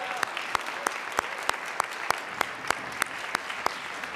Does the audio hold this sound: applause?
yes